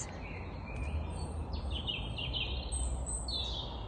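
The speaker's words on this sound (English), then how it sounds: "just allowing yourself to take in all of the sounds of the birds." Birds chirp and warble outdoors at a moderate distance, several short repeated calls over a soft steady background hiss.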